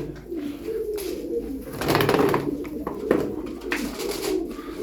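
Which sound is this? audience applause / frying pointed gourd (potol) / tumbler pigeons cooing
tumbler pigeons cooing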